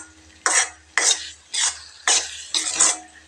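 Masala is stirred and sautéed in oil with five evenly spaced, close scraping strokes of a spoon against the pan, each a short gritty swish over a low background hum.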